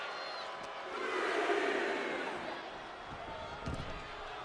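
Wrestling video game crowd at ringside in WWE 2K26, a constant murmuring roar of spectators that swells midway, with a faint thud near the end.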